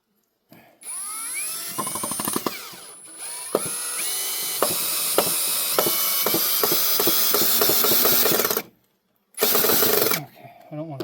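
A power driver runs screws into the Oshkosh P19 rescue rig, giving repeated sharp metallic bursts and whirring runs in close succession, loud and near, with a short pause before a final burst.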